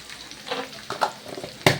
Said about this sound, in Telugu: బాగా ఫ్రై చేసుకోండి.